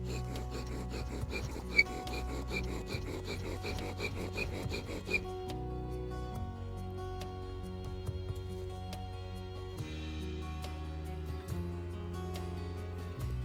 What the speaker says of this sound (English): to grind off dust from both the drill and the board.